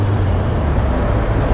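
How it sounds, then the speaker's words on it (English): An MGB sports car's engine drones low and steady while cruising in fifth gear at 45 miles per hour, a close, even hum with road rumble and no break. "So you can quiet this car down nicely in fifth. That's at 45 miles an hour."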